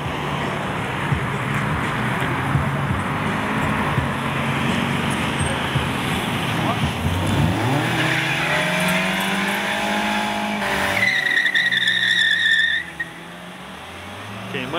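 Tires squealing as a car performs a burnout at a Brazilian car meet in Curitiba, a loud, sustained screech with engine revving and sweeping pitch changes, then a sudden drop-off near the end.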